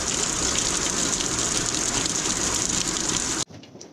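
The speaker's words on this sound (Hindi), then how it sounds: "आप बहुत दिनों बाद इतनी बढ़िया बारिश आ रही है" Heavy monsoon rain pours steadily on a hillside village home, a dense, loud, unbroken rushing hiss that cuts off abruptly near the end, with no voices.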